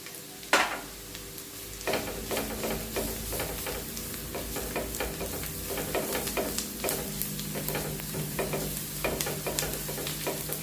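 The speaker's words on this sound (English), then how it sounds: "So now we're going to be adding the shredded garlic" Shredded garlic frying in a pan for penne alla vodka, a soft steady sizzle after a sharp initial drop-in crackle, then rhythmic spatula scrapes and clinks against the pan, close with no voices.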